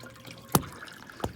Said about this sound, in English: So this is the wall that leaks the worst. There's a huge, it just pours in.